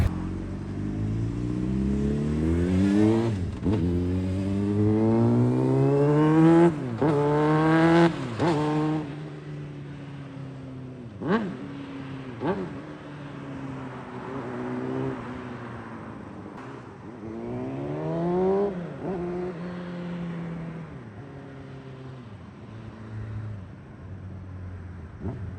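Honda CBR600RR sport motorcycle ridden up a road, engine revving and accelerating through rising gear pulls with shifts between them, loud and close, then easing off and revving up again, no talk.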